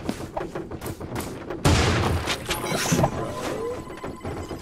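AK rifle fire in the shooter game Creative Destruction, a series of sharp shots with a heavy boom partway through, loud and close amid scattered in-game noise, no speech.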